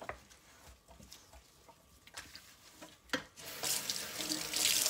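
Water running from a tap while a kitchen sink is cleaned with a cloth, starting as scattered drips and taps with wiping, then turning into a steady louder gush near the end.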